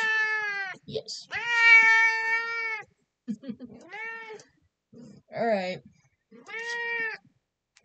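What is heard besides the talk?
chatty cat meowing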